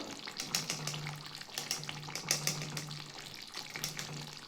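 Ghee sizzling in a pan of ridge gourd, potato and paneer, a steady close crackling fry with soft bursts of stirring, no voices.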